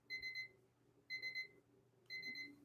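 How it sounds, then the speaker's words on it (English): Auction countdown timer on a game show beeping in three clear bursts of rapid electronic beeps, about one second apart, each burst a quick triple pulse over a low steady hum. "And that beeping sound means time is up."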